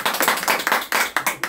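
Hand clapping by a small group during a Korean business presentation about Filecoin storage, several close, sharp claps in an uneven rhythm lasting under two seconds, with no talk over it.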